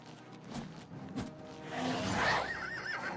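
A horse whinnies in the Oblivion Remastered video game, a rising, wavering neigh following a few soft thumps, fairly close and clear with no talk over it.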